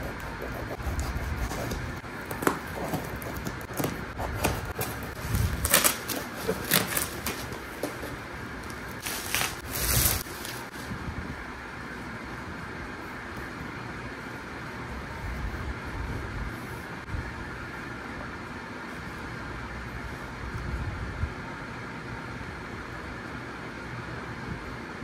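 A parcel holding a Digitek microphone is torn open, with bursts of crinkling, scraping and rustling packaging that grow busy in the middle and then settle into quieter handling noise.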